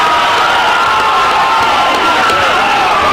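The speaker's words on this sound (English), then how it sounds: "We got a capacity crowd on hand here at the Barker Memorial Auditorium, or Gymnasium." A capacity crowd at a boys' high school basketball game in the Barker Memorial Gymnasium roars with loud, continuous cheering and shouting that fills the space with a dense, steady wash of sound.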